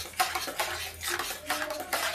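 A spoon scrapes and clinks against a pan as semolina cooks in milk, with repeated stirring strokes coming in short bursts, close and moderately loud.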